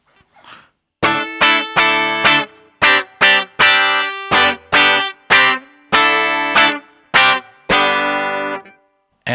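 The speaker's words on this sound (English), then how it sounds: "now you only hear the single coil sound from this humbucker here" An electric guitar plays through the single-coil half of a split bridge humbucker, with pronounced distortion: a run of about fifteen sharp, separate chord stabs and notes in a loose rhythm, loud and close with no talk.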